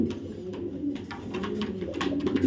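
A racing pigeon coos in soft, low, rolling repeated notes, close by, with faint rustling in the background.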